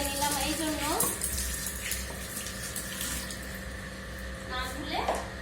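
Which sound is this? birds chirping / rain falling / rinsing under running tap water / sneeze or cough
rinsing under running tap water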